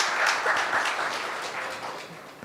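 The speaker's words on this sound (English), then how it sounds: "So give him a big round of applause." Audience applause for Sai Vignesh at a tribute event, a sustained wash of many hands clapping, steady and fairly loud throughout with no voices over it.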